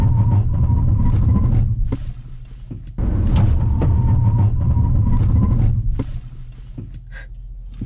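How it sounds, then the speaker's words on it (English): A 2020 Hyundai Sonata Hybrid braking hard from 60 mph: loud road and tire rumble with low engine drone, easing after about two seconds, then building again and tapering off near the end, with no talk. "60-0 braking test"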